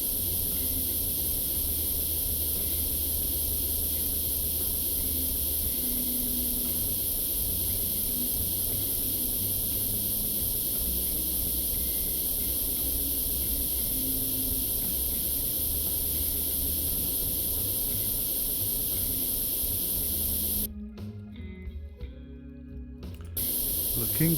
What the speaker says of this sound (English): to then spray it back to its natural metal colour